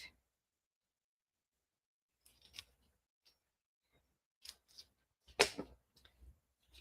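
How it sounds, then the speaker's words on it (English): Scissors snip through cardstock while a card is being made, a few quiet, crisp cuts spread over several seconds with near-silence between them. "I'm going to cut this in half."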